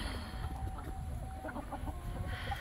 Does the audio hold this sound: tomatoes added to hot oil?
no